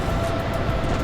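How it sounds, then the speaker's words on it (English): Air France aircraft jet engine running during a ground test, a steady loud roar that fills the whole second without change. "You can hear an engine just running."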